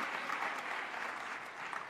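A big round of applause from an audience at a formal gathering, a brief, continuous roar of many hands clapping at steady volume.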